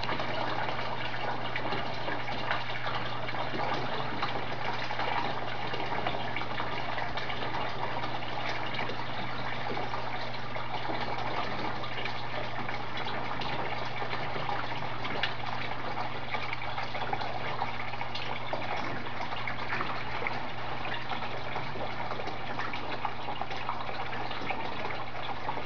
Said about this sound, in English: Okay, we're getting to the tail end of the siphon process.